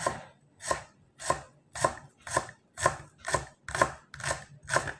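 Knife chopping spring onion on a board for a tabbouleh salad, nine crisp, evenly spaced chops at a steady rhythm, close and clear, with no talking.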